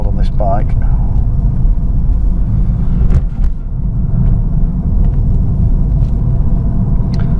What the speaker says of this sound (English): a squeeze on the accelerator as we get to the uphill section